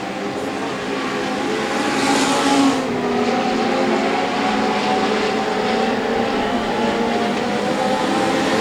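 Legend race cars roaring around an oval track in a close pack of leaders and lapped cars, a steady dense engine drone with a brief louder swell as the group passes, no voices.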